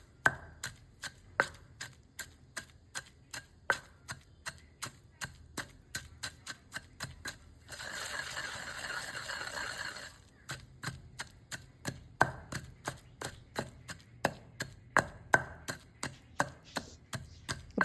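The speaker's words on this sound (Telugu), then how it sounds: "సరిపడినంత అంత వేసుకొని మెత్తగా మనము దంచుకుందాం" Green chilies and salt pounded in a mortar for ridge gourd chutney, producing sharp, regular thuds in a steady rhythm, with a brief grinding scrape partway through, close and clear with no talk.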